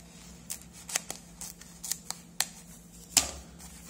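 Scissors snipping open a package containing a Banggood FM radio kit with alarm clock and LCD display, a series of sharp, close, crisp cuts and rustles spaced irregularly, with no talking.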